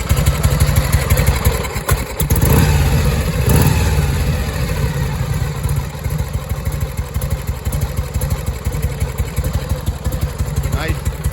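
A 1969 Harley-Davidson FLH motorcycle engine running after a kickstart, loud and close with a steady, throbbing idle and a few throttle blips early on.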